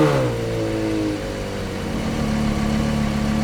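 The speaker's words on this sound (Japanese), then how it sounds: "今日は2006年に日本へ正規輸入されたポルシェカレラ GT に乗っています。" A 2006 Porsche Carrera GT engine idles and revs, a steady mid-pitched drone with rising and falling harmonic tones, close and alone without talk.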